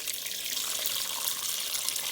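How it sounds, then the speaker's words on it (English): Fresh water pours steadily into a pot for Syrian Maghrabia soup with chickpeas after the broth is discarded, a continuous bright splashing rush heard close up with no voices. "We have thrown the broth, and we are adding new water."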